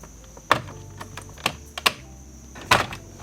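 Sharp plastic clicks and snaps from prying clips off a steering column with a trim tool and pick, four distinct close pops spaced irregularly over a quiet interior background.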